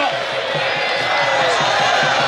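A crowd at a football match cheers and claps together, a dense, continuous roar with scattered whoops and a rhythmic pulse of hands, loud and sustained throughout.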